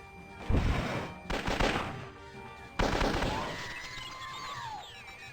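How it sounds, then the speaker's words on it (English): Torpedoes fired at Vader in the XWVM space combat game: three separate loud blasts with crackling tails, then electronic whistling and warbling tones trailing off. "We're going to blow up Vader with torpedoes."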